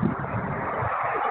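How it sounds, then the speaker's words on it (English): Car noise over an unmuted phone line, a low, muffled rumble of road and engine sound, band-limited and steady for about a second. "I can tell you're in your car. It's a little noisy."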